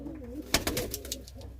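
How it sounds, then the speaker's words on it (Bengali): Domestic pigeons, old Giribaaz breed young birds kept for sale, coo softly up close in a brief, low murmuring call with a few wing or movement sounds. "এই দেখুন পায়রা দেখুন কেমন।"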